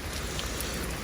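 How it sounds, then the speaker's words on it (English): A heavy rain shower near a house gives a steady, dense hiss of falling water with no break, close and even throughout. "Oh my god! It's too rainy. It's the shower."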